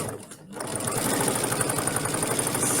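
A sewing machine stitches along the bottom of a leather coin purse, running in a steady, close, rapid mechanical chatter after a brief pause at the start.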